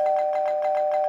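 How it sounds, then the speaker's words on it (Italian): An electronic doorbell rings late at night, a sustained bright tone pulsing in rapid, evenly spaced repeats for about a second, close and fairly loud, with no one speaking. "Perché suonate il campanello così a notte fonda?"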